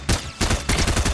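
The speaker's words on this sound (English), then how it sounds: "Let's see the default SMG." Default SMG firing in Fortnite, rapid bursts of gunfire in three quick runs separated by short pauses, loud and close with no talking.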